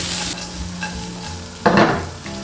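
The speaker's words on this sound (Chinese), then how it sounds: "下入鱿鱼须，撒少许孜然粉、芹菜段、适量熟芝麻，翻炒均匀" Squid tentacles are stir-fried with cumin powder, celery pieces and toasted sesame, after ginger, garlic and dried chilies, in a restaurant-style wok, giving a close hiss of hot oil and one sharp, loud burst of tossing and scraping near the end.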